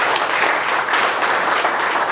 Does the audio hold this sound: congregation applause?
yes